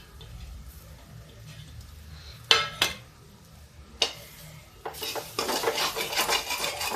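Mung dal being dry-roasted in a pan while a spatula stirs and scrapes, with a few sharp clanks against the metal and a steady rasping shuffle that grows denser toward the end.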